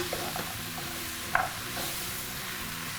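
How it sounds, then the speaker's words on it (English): Onion and sweet potato sweat gently in a soup pot, a soft, even sizzle close by, with occasional stirring clinks and one brief louder scrape of the spoon partway through. "Just make sure to stir it occasionally while you're sweating it."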